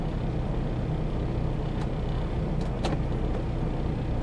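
A truck rolls past at a distribution center in Colton, California, a steady, loud broadband rumble of a heavy vehicle close by, with no talk over it.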